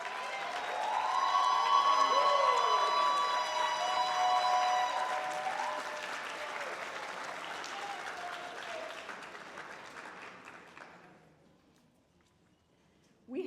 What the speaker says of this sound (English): Please rise and let's give Soror Quick a round of applause